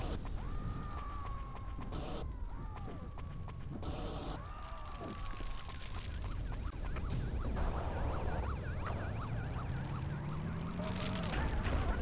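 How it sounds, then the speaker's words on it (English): A Paypack 2 video game alarm siren wails in rising and falling sweeps, fairly faint, over a steady background of game ambience and mechanical noise, with no voices. "Sets off the alarm."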